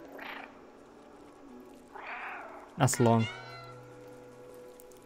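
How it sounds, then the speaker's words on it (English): A cat meows in a video game, one long, drawn-out meow triggered by a button press. Voices talk before it, and a faint hum carries on afterward. "Press circle to meow."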